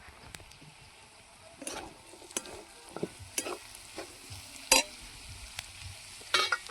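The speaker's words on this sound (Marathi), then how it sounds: "दोडका सुद्धा आपल्याला तेलामध्ये 2 मिनिट परतून घ्यायचा आहे" Chopped ridge gourd sautéing in oil in a pan over a wood-fired stove, with a low steady sizzle and occasional scraping taps of a stirring spoon, close and soft.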